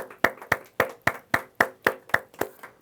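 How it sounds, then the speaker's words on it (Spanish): Clapping at a Shabbat church service: about ten sharp, evenly spaced claps in a steady beat, close and distinct, with no talk over them. "Un aplauso"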